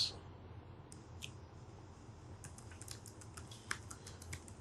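Keys clatter on a computer keyboard as a printf line is typed, a quick irregular run of soft, faint clicks with a few sharper taps and no talking.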